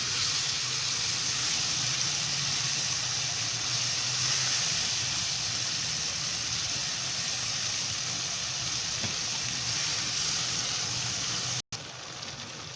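Masala spice paste for aloo gobi sizzles and hisses steadily in a pan after a spoonful or two of water is added, a loud continuous close frying sound with no talk.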